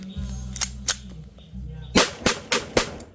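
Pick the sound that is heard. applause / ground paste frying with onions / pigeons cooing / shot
shot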